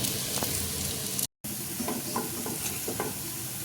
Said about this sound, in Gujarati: આ રીતે આપણે બંને બાજુ તેલ એડ કરી અને ધીમા તાપ ઉપર શેકી લેશું